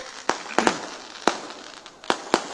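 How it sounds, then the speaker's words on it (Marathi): Loud firecrackers burst one after another at uneven intervals, several sharp close bangs, two coming almost together, against a hissy background at an outdoor public political rally. "फटाके बंद करा फटाके"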